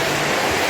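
A river rushes past with a loud, broad, steady roar of flowing water, heard close up and alone for under a second.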